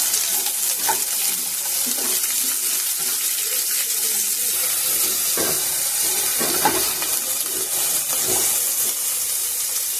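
Carrots tumble into a pan of fried onion, a steady sizzle hissing throughout with scattered stirring and clattering knocks against the pan.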